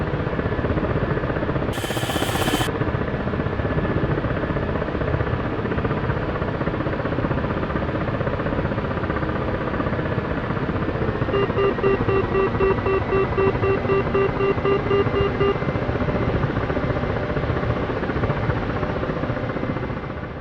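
A Ka-50 Black Shark helicopter in the DCS World flight simulator runs after a cold start, giving a steady, loud rotor and engine drone that holds unchanged for the whole stretch, with faint tonal whines joining midway and no voices.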